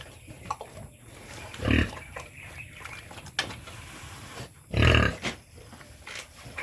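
Pigs on a farm grunt and squeal in short bursts, two louder outbursts standing out over a low background of shuffling and snuffling nearby.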